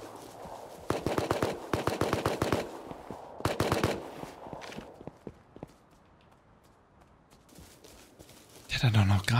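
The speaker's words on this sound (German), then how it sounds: "Der hat doch noch gerade geschossen." Rapid bursts of gunfire in Rust crack out in several quick volleys early on and then thin to scattered single shots, with a loud rush of noise at the very end.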